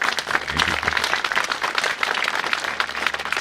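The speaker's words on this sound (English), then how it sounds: "So just give it up applause." At a ribbon cutting for the ThunderBowl suites at CSU Pueblo, an audience applauds the dedication of the east side press box to Bob Rawlings. Brisk, steady clapping from a modest crowd fills the moment without voices.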